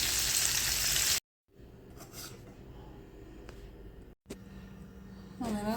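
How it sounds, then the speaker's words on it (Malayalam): Sardines fry in a pan with a loud, bright sizzle at the start that cuts off abruptly, followed by quieter kitchen scraping and clatter and a short renewed sizzle near the end. "അങ്ങനെ മത്തി ഫ്രൈ റെഡിയായി."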